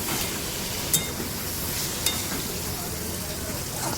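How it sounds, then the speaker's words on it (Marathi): Tomatoes with salt stirred in a hot pan: a continuous soft sizzle with two brief clinks of the spoon against the pan, close and fairly quiet. "आता आपण व्यवस्थित एकत्र करून घेऊया"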